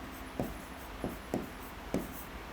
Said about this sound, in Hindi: मैं थोड़ा लिखता हूं